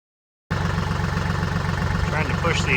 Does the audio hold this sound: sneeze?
no